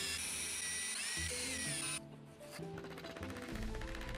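Power drill boring a row of holes along a marked line in a wooden slingshot blank, a steady high whine that drops out midway and then returns with a rougher, lower buzz of the bit cutting wood.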